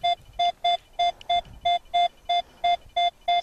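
A metal detector sounds its signal while searching for gold and old relics near a house: about eleven short, even electronic beeps in a quick regular rhythm, close and clear, without speech.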